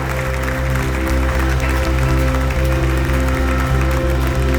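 A church congregation claps steadily and loudly through a worship service, the dense applause layered over sustained keyboard chords and a thumping low beat.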